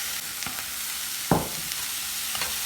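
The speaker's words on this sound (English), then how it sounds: "Heat up your pot in medium flame, then add some butter. And then you're gonna add your diced apples." Diced apples cooking in melted butter in a pot over medium heat, a soft, steady sizzle with one sharp scrape of a spoon stirring partway through and faint clicks around it.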